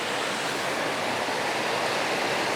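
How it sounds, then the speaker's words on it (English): Water cascades steadily down a flight of stone steps, a dense, even rush of broadband noise that holds constant throughout, close and fairly loud with no voices. "I can hear the water coming down those steps."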